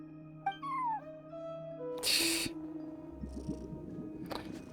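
Cat at a front desk in Genshin Impact gives a clear rising-falling meow near the start, followed by a hiss-like burst and a few quieter game sounds.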